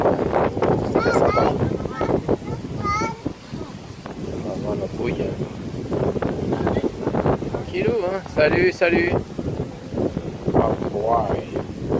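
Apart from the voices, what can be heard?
wind outdoors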